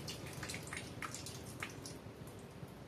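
Water drips and trickles softly as potted orchids soak in fertilizer water. Small irregular drops fall over a faint, steady wash of water.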